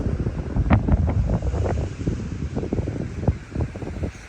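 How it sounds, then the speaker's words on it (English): Breezy wind gusting outdoors by the sea, a steady rumbling buffet with uneven swells and brief louder bursts, close to the microphone and with no speech. "It's a little breezy."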